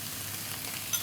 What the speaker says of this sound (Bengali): ভেজিস ফ্রাই করা অলমোস্ট ডান।